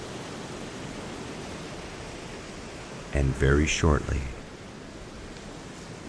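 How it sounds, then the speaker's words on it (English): Soft ocean waves forming a steady rushing wash beneath a calm meditation voice, with a calm voice speaking briefly partway through. "Allow the waves to wash over your being."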